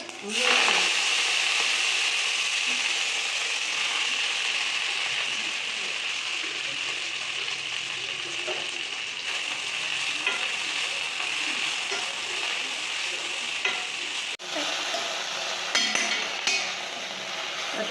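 Fenugreek leaves and garlic sizzle in a pan, a soft continuous frying hiss heard close up, broken by occasional scraping and tapping from stirring, most noticeably near the end.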